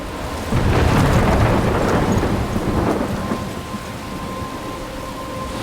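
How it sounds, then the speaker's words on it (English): A thunderstorm in the video game Life Is Stranger: a loud, rolling rumble of thunder swells over a steady roar of heavy rain, then eases into continuous rainfall. "I'm trapped in a storm?"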